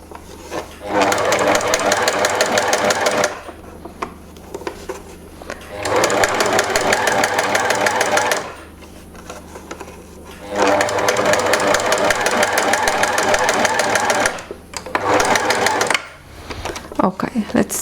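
A home sewing machine runs in steady rapid bursts, stitching fabric with elastic thread in the bobbin for shirring, three long runs broken by short pauses and a final brief burst, close and loud with speech-like clatter.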